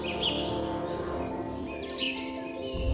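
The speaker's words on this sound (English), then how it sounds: "The sound of birdsong rises like a natural hymn" Birdsong in the southern lowlands of Nepal, with many chirps and tweets from several birds layered over a steady, dense background of natural ambience that runs throughout.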